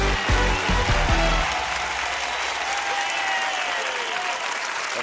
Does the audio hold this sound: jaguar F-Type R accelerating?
no